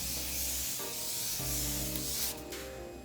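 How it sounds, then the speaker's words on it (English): Makeup setting spray misting steadily from a bottle in a continuous soft hiss, close and fairly quiet, with a short shift in tone near the end. "go ahead and spray everything"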